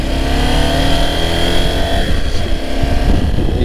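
A motorcycle engine running and revving steadily, loud and close, a continuous droning roar with slight swells and no talking.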